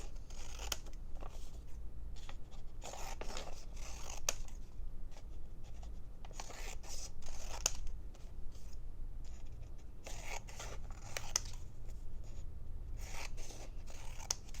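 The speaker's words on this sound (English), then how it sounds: "There, I cut myself some paper strips" Scissors snip through paper to make strips, a steady run of close, crisp cuts and rustling with short pauses, no talking.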